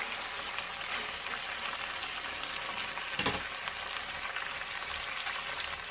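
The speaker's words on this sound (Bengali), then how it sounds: "মাংস আমার তেল ছেড়ে দিয়েছে, তেল ছেড়ে দিয়েছে, আর আমি ডিমও ভাজা করে নিয়েছি। এবার মাংস আমি নেড়ে চেড়ে" Meat fries in hot oil in a pan while being stirred, giving a steady soft sizzle with a brief louder scrape of stirring partway through.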